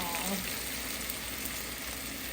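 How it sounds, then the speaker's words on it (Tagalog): Coconut milk sizzles in a hot pan of ginataang lanka, a steady, dense frying hiss that stays loud and even throughout, with faint voices in the background. "lalagyan na natin ang ating coconut milk, ang ating gata"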